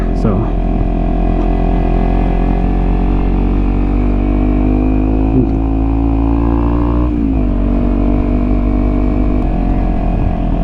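A 2020 KTM Duke 390 motorcycle with aftermarket exhaust mods, its engine droning loud and constant at close range while cruising through downtown Buffalo, with a slight pitch change partway through.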